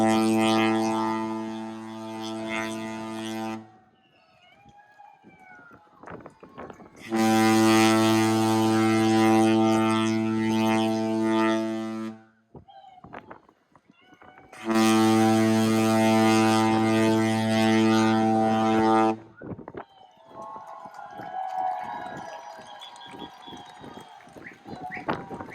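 The Carnival Ecstasy cruise ship's deep horn blasts three times, long sustained and loud notes of about four seconds each, separated by gaps filled with faint crowd noise and distant voices.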